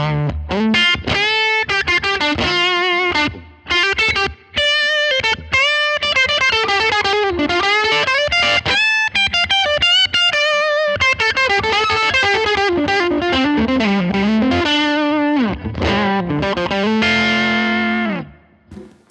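An electric guitar runs through a cranked Tweed amp model on a Line 6 Helix, playing a loud, overdriven blues lead of bent and sustained notes and quick runs, with brief pauses between phrases.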